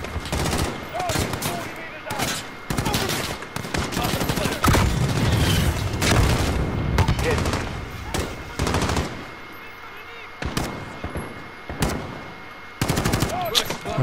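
Gunfire in the Call of Duty: Modern Warfare campaign, loud rapid bursts of automatic fire and single shots that come repeatedly in clusters, with voices speaking over the shooting.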